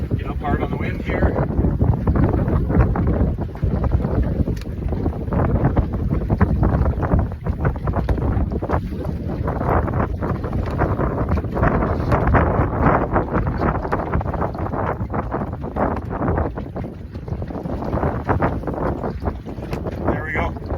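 A sailboat beats hard on the wind while crossing a bay, its fully trimmed sails pushing the hull through the water; steady loud rushing of wind and water with heavy gusting on the microphone throughout, unbroken for the whole stretch.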